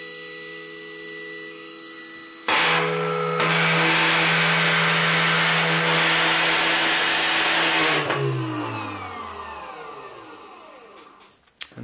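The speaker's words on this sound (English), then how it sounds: "One noisy motor. It's an awesome motor, though, this is." A noisy motor, likely a cooling fan, runs inside a Farnell B30/10 bench power supply, giving a steady loud whir that rises in pitch in the middle, then winds down in pitch and fades toward the end, with no talk.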